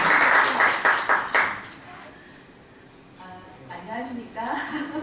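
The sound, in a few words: audience applause for the lecturer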